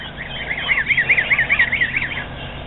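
Geese honk in a quick rhythmic series of nasal calls, fairly close and loud over a faint outdoor background, with no talking.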